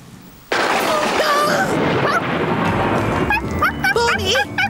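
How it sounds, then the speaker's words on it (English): A sudden rumbling thunderclap breaks out during a storm in a Postman Pat cartoon. It rolls on for a few seconds, then voices and tonal sounds come in over the fading rumble. "A little bit of thunder is nothing to worry about."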